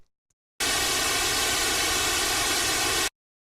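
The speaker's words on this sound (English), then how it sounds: "now here is just normal white noise" Plain white noise, the ordinary flat kind set against NES-style game noise, bursts on abruptly and holds as a steady, loud, even hiss for about two and a half seconds before cutting off into silence.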